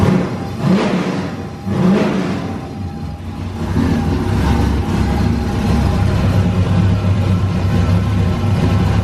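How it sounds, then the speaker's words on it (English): A race car engine idles steadily and close by while its cooling system is bled of air bubbles to fix overheating. It holds a continuous low rumble with a slight rise in revs near the start. "All right, so we got this thing idling out, trying to get all the bubbles out."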